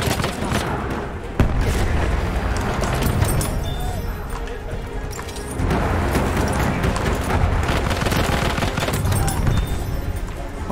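Dense, continuous gunfire from Battlefield 1 Rush mode, hip-fired automatic weapon bursts layered with booms and battlefield clatter, loud and sustained with a brief break near the middle.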